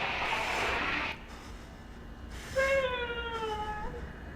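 A cat in the horror game Conarium lets out a clear, drawn-out meow after a burst of rumbling noise, close and alone with no talking.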